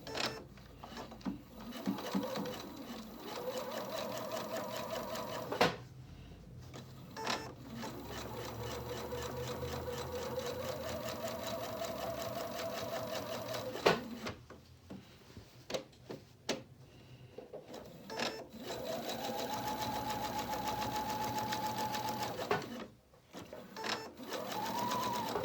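A sewing machine topstitches the shoulder pleats of a Pendleton '49er wool shirt at a 3.0 stitch length, running in steady whirring stretches broken by short pauses, close and fairly quiet.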